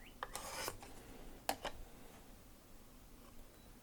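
A knife blade draws across a Work Sharp Precision Adjust sharpener in single light passes to remove a burr, two short close rasping strokes followed by quiet.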